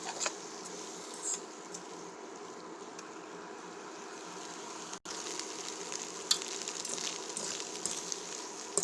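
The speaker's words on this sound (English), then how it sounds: "Now I have added rice with that, so we have to mix it thoroughly, nicely with the berries." Rice mixed with turkey berries in a frying pan, giving a steady, quiet sizzle with faint scraping as the spatula works through, broken by one brief dropout midway.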